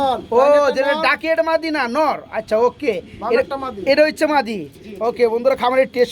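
Pigeons coo from a cage at a bustling pigeon market, the throaty calls rising and falling almost continuously and sounding close and loud, mixed with crowd chatter around the stall.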